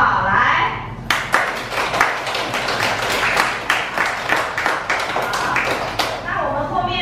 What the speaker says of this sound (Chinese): 我们用热烈的掌声谢谢他们好不好